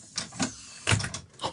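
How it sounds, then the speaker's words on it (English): A door in a radio studio sounds in a few quick knocks and thumps with a rattling, mechanical clatter, brief and fairly close, with no talking over it. "That was the door."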